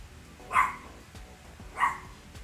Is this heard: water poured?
no